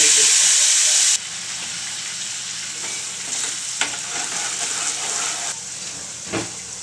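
A crushed mixture drops into hot oil seasoned with cumin and asafoetida and fries with a loud, steady hiss, louder at first and then settling, with a few faint clinks and no talking.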